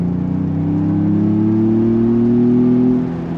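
A 2025 Ford Bronco Big Bend with its 2.4-liter turbo engine accelerates on throttle, a steady rising engine drone climbing gradually in pitch, heard close and loud with no talking.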